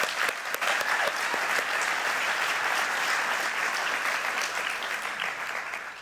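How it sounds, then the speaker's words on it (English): Sustained applause from a large audience at a 2018 MBA commencement ceremony, steady dense clapping that holds for the full stretch and tapers slightly at the end. "I'd like to give a round of applause to all the support staff and family that supported us"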